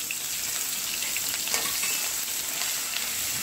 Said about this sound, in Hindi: ओके थोड़ा सा ये पक जाएगा तो इसमें हम लोग ये लहसुन ऐड कर देंगे